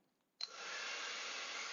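A hair dryer switches on with a sudden burst, then settles into a steady, even blowing roar heard through a headset microphone in a noisy room. No one speaks.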